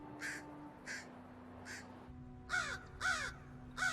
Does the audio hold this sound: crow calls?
yes